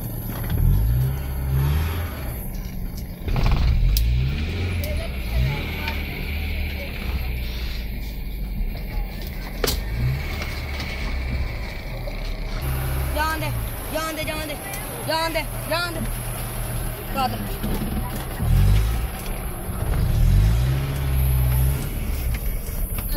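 A car pulls away and accelerates on a road in India, its engine rising from a low rumble to a steadier drone, with people talking loudly over it throughout.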